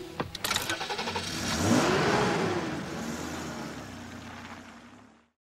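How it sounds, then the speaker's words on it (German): A car engine cranks and catches, then revs up loudly before easing down and cutting off into silence. "Lass den Motor an."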